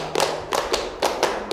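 A group claps in a counted rhythmic pattern during a school group counselling game: several crisp bursts of hands clapping in uneven groupings, close and clear with no talk over them.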